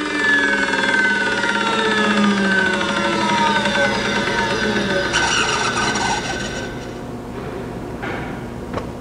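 A Landis 2R universal cylindrical grinder fitted with a 25,000 RPM internal grinding spindle, running with a loud, steady whine of sliding tones that tapers off and grows quieter as it spins down.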